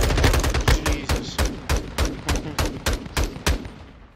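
Automatic gunfire from a weapon in the Call of Duty MW2 beta, a loud string of about a dozen rapid evenly spaced shots over roughly four seconds, with no talk over it.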